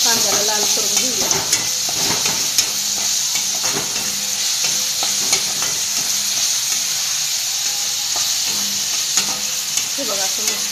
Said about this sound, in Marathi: आता कांदा भाजायला वेळच लागतो, मस्त असं आपण कांद्याला लाल करून घेऊया।